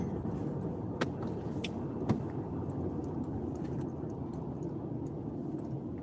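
Steady car engine and road rumble while driving at night on the way to work, a continuous low drone with a couple of faint clicks or knocks, no talking.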